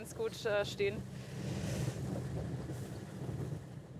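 Steady wind rushes outdoors on South Africa's Garden Route, a broad, continuous roar that fills the clip after a brief voice at the start.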